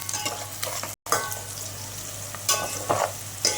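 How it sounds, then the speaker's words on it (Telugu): Onions with salt frying in a pan while being stirred, a continuous close sizzle broken by scraping spoon strokes against the pan, with a brief dropout near the start. "ఎర్రగడ్డలు బాగా తొందరగా వేగాలంటే సాల్ట్ కొంచెం మళ్ళీ వేసుకున్నాం"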